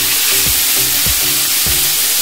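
Vegetables with tofu frying loudly in a pan, a steady bright sizzle broken by a few low clunks of stirring roughly every half second.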